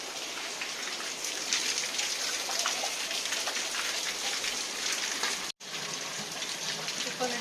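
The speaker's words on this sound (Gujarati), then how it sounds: "અહીંયા છે ને વરસાદ ચાલુ થઈ ગયો છે" Steady rain patters densely on a nearby surface, a continuous hiss of drops with a brief cut near the end.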